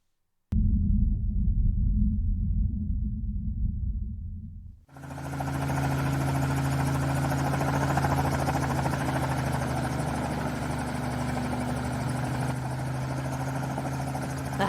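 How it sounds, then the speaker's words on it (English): A helicopter flying low in mountains roars in close and loud after a few seconds of low rumble, its heavy rotor drone holding steady without pause. "The helicopter's flying low"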